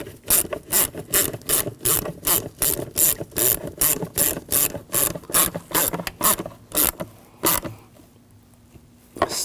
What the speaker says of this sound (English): And tighten down the clamp.